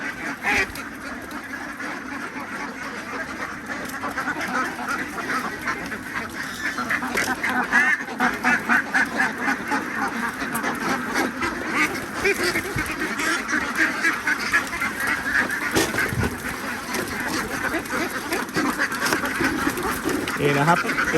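A flock of laying ducks at a duck farm quacks continuously, a dense, steady chorus at moderate distance, with someone talking over it throughout.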